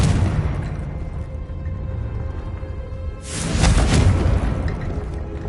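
The Confringo blasting spell explodes in the Hogwarts Legacy video game, a deep rumbling boom over a constant low game roar, with a brighter blast swelling midway and fading slowly.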